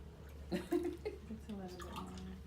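Kangen water poured into a container during a demonstration, a soft splashing trickle under close, overlapping speech.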